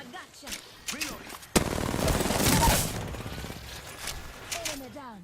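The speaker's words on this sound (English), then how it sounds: "I'm getting shot at" Bursts of gunfire from a first-person shooter video game, a sharp shot followed by a dense, sustained volley of rapid fire, with a voice talking before and after.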